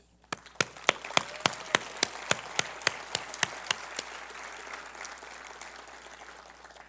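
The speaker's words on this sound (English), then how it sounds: "Let us take a moment to applaud these remarkable mentors" A graduation ceremony audience applauds its mentors, opening with a series of distinct, evenly spaced claps that build into a broad, sustained wash of applause which slowly thins out.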